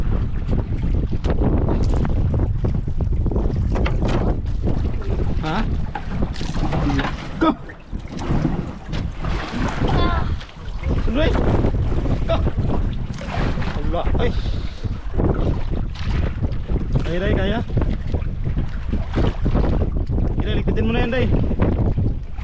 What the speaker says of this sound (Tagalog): palaki ng patalaki yung alon